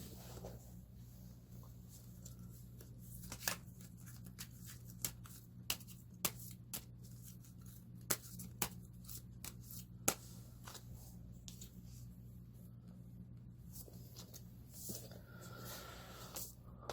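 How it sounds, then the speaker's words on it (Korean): Tarot cards being shuffled before one is drawn: scattered soft flicks and taps, some sharper snaps, over a steady low hum, fairly quiet and close, with no talking. "제가 좋아하는 다른 카드 앤서이즈 심플을 뽑아 보겠습니다"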